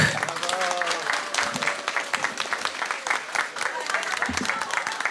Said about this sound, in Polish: poproszę wielkie oklaski kierowniczkę oddziału Małgorzata Leniartek